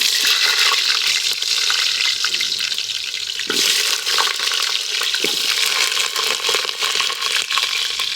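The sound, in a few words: potatoes frying in hot oil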